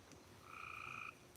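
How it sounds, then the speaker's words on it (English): Frogs call at night near a goat rescue, one sustained two-toned croak ringing out for about half a second over a faint chorus of background calls. "You hear that? They're frogs."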